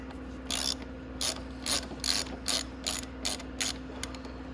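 A 12 mm ratcheting wrench clicks in about eight quick, close bursts while loosening a brake caliper bolt on a Venom X22R Max 250cc motorcycle, with a steady low hum underneath and no talking.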